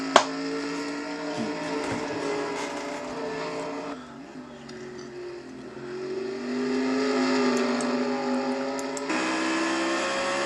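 On-board race car engine at Road America during a Nationwide Series race, a steady loud harmonic drone that drops in pitch around four seconds, then climbs again as the car accelerates, with a sharp click at the start.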